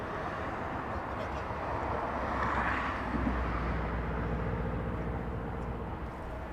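A jet airliner, a Boeing 737 or Dreamliner, roars steadily at Los Angeles International Airport, a broad continuous rumble that swells slightly near the middle and then eases, heard from a moderate distance.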